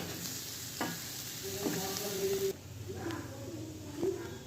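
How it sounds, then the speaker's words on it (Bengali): Okra frying in hot oil in a karahi, a steady close sizzle with soft scraping stirs throughout, growing quieter about halfway through. "এইরকম সবুজ সবুজ থাকবে ঢ্যাঁড়সটা, ভাজা হয়ে গেলে তুলে নিতে হবে।"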